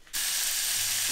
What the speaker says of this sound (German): So, ich brate jetzt das Fleisch ein bisschen hier an.